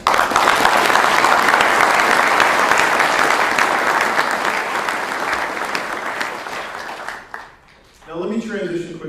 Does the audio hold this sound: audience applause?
yes